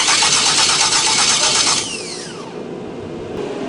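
A 600+ horsepower Camaro engine fires up, a loud, dense rumble that holds steady for nearly two seconds, then drops to a quieter idle with a falling whine.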